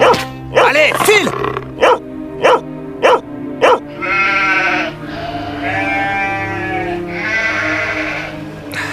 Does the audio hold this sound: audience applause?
no